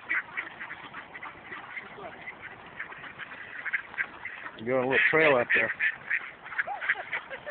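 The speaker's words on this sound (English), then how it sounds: "Quack, quack, quack, quack. Come on, little ducks." Ducks on a small lake quack in short repeated bursts, with a louder cluster of honking quacks midway, while a person talks nearby over the birds.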